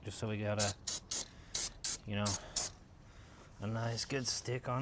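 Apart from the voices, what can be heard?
spraying brake cleaner on a truck frame rail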